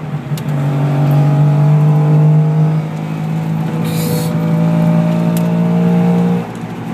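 A 1964 Saab GT engine drones steadily at low speed with a sustained tonal hum that wavers and eases off near the end, heard up close as the car pulls in.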